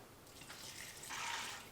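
Water pours steadily from a cup into an Instant Pot holding two cups of dry beans, a faint, soft splashing hiss that grows slightly fuller toward the end, with no talking.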